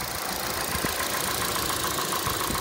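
2014 Ford Transit cargo van with a 2.5 liter inline four and 144K miles, idling with the hood open: a steady, even mechanical hum and rumble, close and unbroken, with no voices.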